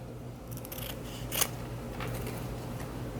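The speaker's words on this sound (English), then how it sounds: "To ribbon cut, you would just fold the ribbon in half. The 2 open ends on the bottom, the fold on the top, and cut at a diagonal." Scissors snip through folded ribbon at a diagonal while making a Thanksgiving ribbon wreath, a single soft close cut with light handling noise around it and no talk.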